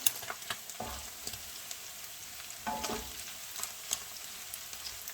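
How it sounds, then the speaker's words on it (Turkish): Ground meat and onion fry in a pan for a Turkish stuffed bread dish, a quiet steady sizzle with occasional clicks and scraping stirs nearby. "Kıymam bayağı kavruldu çünkü. Yine soğanım sotelendi."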